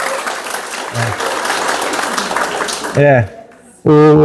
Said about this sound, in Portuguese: uma salva de palmas para o Fábio